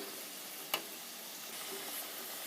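Jilepi pitha, spiral-shaped fried sweets, fry in oil with a steady, moderately faint hiss and sizzle, broken once early by a brief sharp tap.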